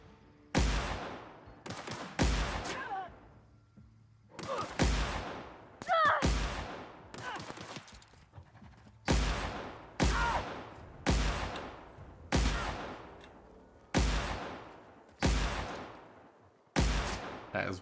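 Plasma gun fire in The Outer Worlds, with about a dozen loud, sharp shots spaced a second or so apart, each trailing off with a decaying tail over quiet game ambience.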